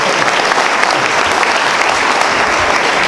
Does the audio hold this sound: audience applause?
yes